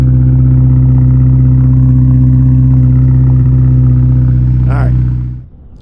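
A 2006 Honda S2000 AP2, rebuilt after a wreck, idles steadily and smoothly close by with a deep, even drone and a brief rising blip near the end before it cuts off.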